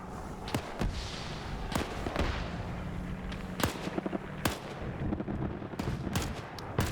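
Scattered rifle gunfire in a large-scale World War II D-Day PvP game, sharp individual shots at irregular intervals, some close and loud, others more distant, over a steady battlefield rumble.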